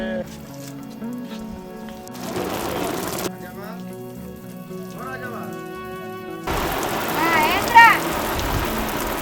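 Rain falls steadily on a surface around an old house, a continuous soft patter that swells in the later part, with people talking over it.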